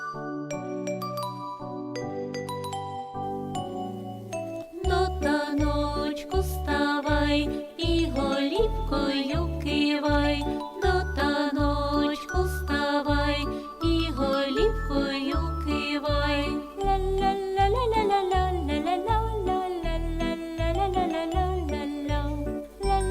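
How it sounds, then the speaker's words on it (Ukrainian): Bright, bouncy children's music for a pair dance in a preschool music class plays: a tinkling melody opens alone, then a steady beat joins for a lively dance tune. "Ну ж бо гучно музика заграй, танцювати починай."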